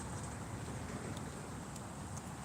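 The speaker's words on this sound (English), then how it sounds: "It's pretty windy out here." Steady broadband wind rushing outdoors, buffeting the microphone with a constant low roar and no voices.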